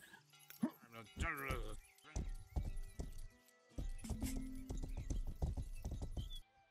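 Horse hooves clip-clop in a video game, intermittent close clopping mixed with other game effects and a horse neigh, while a person talks over much of it.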